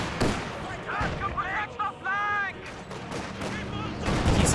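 Soviet T-70 light tank firing its gun in the Company of Heroes 2 strategy game, a few sharp cannon shots amid battle noise under continuous commentary.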